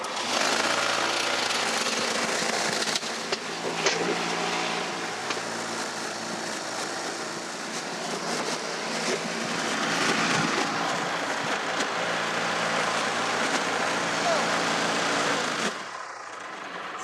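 An old push-mower blade chops apples for a cider press outdoors, a loud, continuous mechanical roar and rattle from close by that runs for about fifteen seconds before cutting off.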